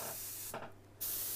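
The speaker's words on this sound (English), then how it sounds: "I spray beyond the edge of the panel" A spray gun hisses steadily as it coats a panel, the continuous spray cutting off briefly midway and then resuming loud and close, with no talking.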